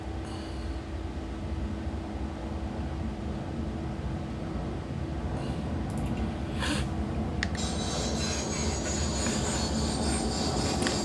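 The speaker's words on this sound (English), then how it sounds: "And start the left engine." The left engine of an ATR72-500 turboprop in the P3D flight simulator starts and spools up as a steady, loud broadband roar that builds in a higher whine near the end, with no talk.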